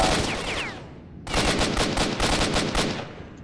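Automatic gunfire in the video game S.T.A.L.K.E.R. Shadow of Chernobyl, loud and close: a short burst, a brief lull, then a longer sustained stream of rapid shots in quick bursts.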